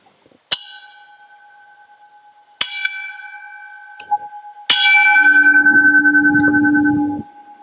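Three clear bell strikes ring out a couple of seconds apart, each with a long shimmering decay, followed by a sustained lower humming tone.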